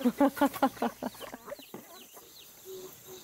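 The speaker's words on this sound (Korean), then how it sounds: "각양각색의 유럽 닭들 중에서도 신부님의 마음이 가장 쓰이는 녀석은 수로" European-breed chickens of French and English lines on a farm cluck in a quick run of loud, close calls, then quieter scattered clucks and a short call near the end.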